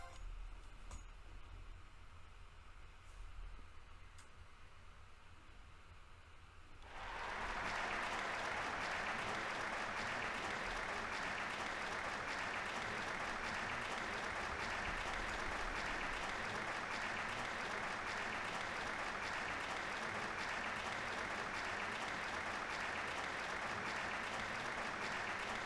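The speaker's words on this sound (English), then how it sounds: "Sounds like they're looping the clap." Steady, continuous applause from the video game Trails of Cold Steel starts abruptly after several seconds of quiet and holds at an even, unchanging level, like a short clap sample looped over and over.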